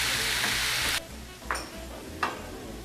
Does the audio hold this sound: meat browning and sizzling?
yes